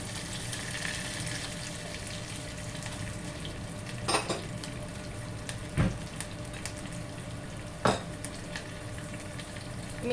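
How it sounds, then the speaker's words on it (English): Spices for a tempering sizzle steadily in melted ghee in a pan for rasam, with a constant frying hiss and a few sharp clinks of utensils against the pot, close up and without talk. "So the ghee has melted. I'm going to tamper everything."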